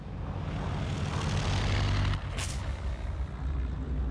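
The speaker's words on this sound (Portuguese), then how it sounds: "Tibbets decolou o Enola Gay com habilidade a poucos centímetros do fim da pista." The B-29 bomber Enola Gay taking off, its propeller engines holding a loud, steady low drone with a brief burst of hiss near the middle.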